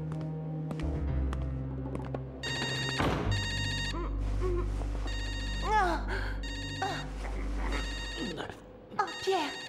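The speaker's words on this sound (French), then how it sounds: "Oh, Pierre, regarde, un téléphone." Telephone bell ringing in repeated loud bursts over a busy scene, with overlapping shorter tones and faint voices mixed in, heard close by for several rings.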